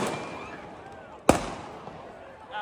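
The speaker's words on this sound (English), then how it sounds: "Wow, they're throwing fireworks and mortars. They just threw fireworks at officers." At a street protest with police officers, a single sharp firework bang goes off nearby, amid crowd noise and faint voices, with a quieter pop near the end.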